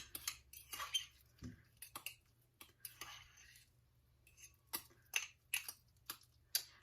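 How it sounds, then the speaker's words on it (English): A fork clinks and scrapes against a bowl while mashing a ripe avocado, producing quiet, irregular metallic taps close by with pauses between strokes. "We're going to kind of mash it up with a fork"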